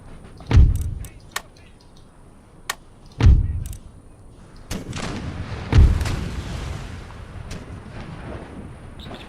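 Artillery fire in Empire Total War, three heavy booming cannon blasts spaced a few seconds apart, with sharper musket-like cracks scattered between them over a noisy battlefield background.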